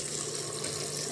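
Tap water runs steadily into a sink while ampalaya leaves are rinsed, a continuous close hiss with no talking.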